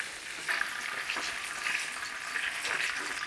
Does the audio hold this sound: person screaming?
no